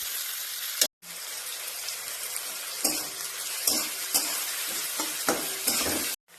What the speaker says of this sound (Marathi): तर आपला कांदा आता भाजून झाला